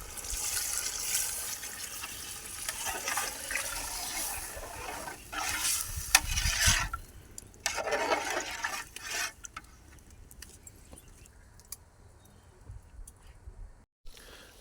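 A pot of water for chicken biryani bubbles and churns at a vigorous boil, a busy close hiss with surges of gurgling that thins out and quiets toward the end.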